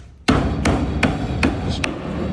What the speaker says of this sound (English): You're going to need a hammer to hammer it in, just to make sure it's all flush all around.